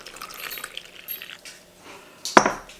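Water poured into a well of flour for cheese naan dough lands as a short splash of liquid hitting the flour near the end, after a stretch of faint kitchen clatter and dish sounds.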